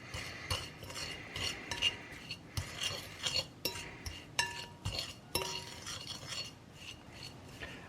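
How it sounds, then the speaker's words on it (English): A fork mixing breadcrumbs into a mixture in a bowl, with repeated scraping and clinking strokes against the dish in an uneven rhythm, close and fairly quiet. "With all of these breadcrumbs, I can now continue to mix."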